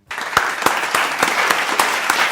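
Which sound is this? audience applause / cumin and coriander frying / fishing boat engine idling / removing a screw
audience applause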